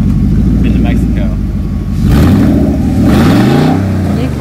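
Van engine with its catalytic converter cut off revving hard, a loud raw roar that climbs in pitch and repeats, close by, with voices faintly underneath.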